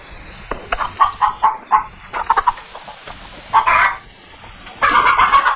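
Chickens cluck and squawk nearby in short bursts, with a louder drawn-out call near the end, in a 1952 film of Jack and the Beanstalk.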